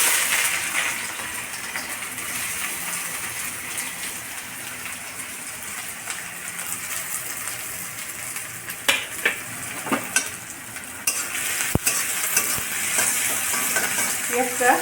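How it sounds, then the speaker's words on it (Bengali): Sliced onions sizzle in hot oil in a pan for aloo bharta, a steady close hiss with a few sharp clinks and stirring scrapes toward the end. "এবার পেঁয়াজটা দিয়ে দিচ্ছি তেলে।"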